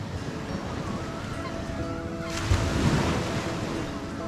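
Surf washing ashore on the Black Sea coast at dusk, a steady broad wash that swells louder midway through, with faint honking fowl somewhere in the distance.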